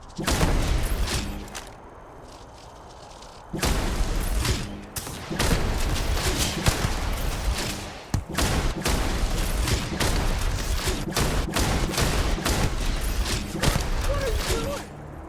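Gunfire in the space game Starfield rings out as loud, close single shots and short bursts, sharp cracks repeating irregularly across the stretch with a brief quieter pause near the start.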